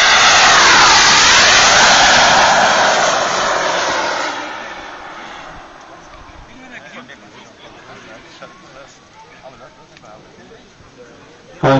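A loud jet turbine on a model Messerschmitt P1111 roars close by for several seconds, then fades into the distance as a crowd murmurs in the background at a model flying day.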